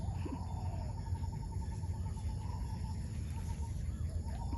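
Chickens cluck softly on and off nearby in a durian orchard, over a constant buzz of insects and a thin high whine.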